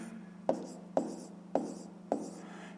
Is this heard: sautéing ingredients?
no